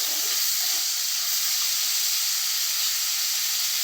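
Chopped onions fry in a pan with salt added, giving a steady, even sizzling hiss that holds close and constant throughout with no talking.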